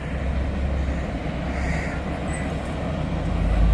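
A long freight train of 604 axles rolling past a crossing, a steady loud low rumble and rail roar that swells slightly toward the end.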